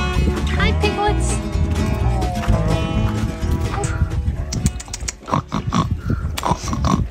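Piglets grunt and squeal close by in a busy, overlapping jumble, with snorts and shuffling amid the noise.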